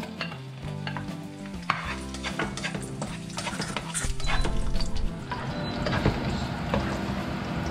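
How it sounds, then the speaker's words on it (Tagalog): Garlic sautéing in a pan as the start of a Kapampangan-style chicken and tomato dish, a dense continuous sizzle with scraping stirs that swells louder midway, close and alone. "Magigisa muna tayo. Unahin natin yung ating bawang."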